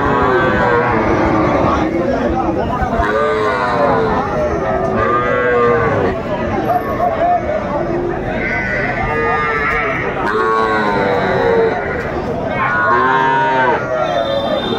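Cattle, including Sahiwal bull calves, moo repeatedly and loudly at a livestock market in Kushtia, several overlapping calls from a crowded herd, with a busy background of people talking.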